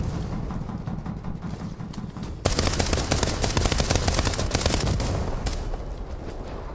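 Rapid tank machine-gun fire in War Thunder, a loud sustained burst of close repeated shots starting partway in after quieter rumbling, continuing steadily to the end.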